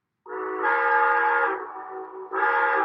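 A model cab forward steam locomotive sounds a chord whistle, with one long blast, a brief drop to a softer tone and then a second blast, loud and close.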